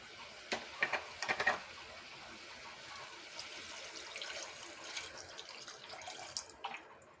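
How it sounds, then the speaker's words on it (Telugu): Water is poured into a pan of gongura mutton curry, with a few brief splashes early on, then a faint, quieter trickle and bubbling. "ఇప్పుడు కొన్ని నీళ్లు వేసుకున్నాం"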